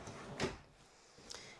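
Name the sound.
sliding closet door in an RV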